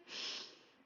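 A single deep breath drawn in through the nose during a pelvic floor exercise, a soft airy rush that swells and fades within a second, close and fairly quiet.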